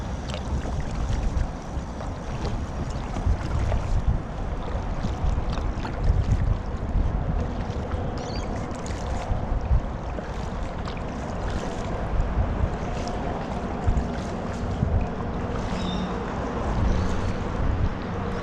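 Paddle craft gliding across open water on a calm morning, with a steady wash of water and wind noise throughout and soft, irregular splashes and knocks close by.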